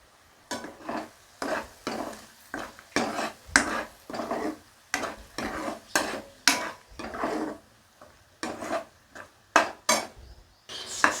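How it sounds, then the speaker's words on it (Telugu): A spoon scrapes and clanks against a pan while yogurt is stirred into tomato gravy for an egg masala curry, in repeated rhythmic bursts with short pauses between strokes, close and clear with no talking. "ఇప్పుడు పెరుగు యాడ్ చేసుకొని తిప్పుకోవాలి"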